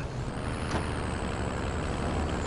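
A truck's air brakes hiss loudly in the Modern Warfare video game. The sound is a harsh, steady blast of noise that lasts the whole two and a half seconds, close and unbroken.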